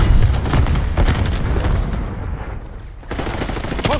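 Stun grenade detonating during an intense video game firefight, a loud dense burst of booms and crackling gunfire that continues around it without a break.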